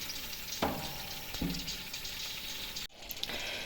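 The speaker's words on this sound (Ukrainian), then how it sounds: "Ой, як шкварчить." Quiet, steady crackle of potatoes sizzling in a hot pan going into the oven, with a couple of faint clunks and a brief dropout near the end.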